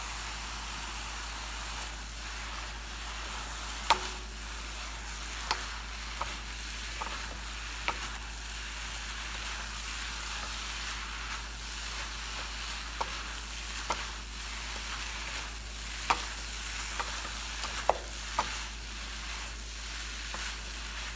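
Vegetables for an oil-free Asian stir fry sizzle steadily in a pan, with occasional sharp clicks and taps from stirring scattered over a soft, continuous hiss.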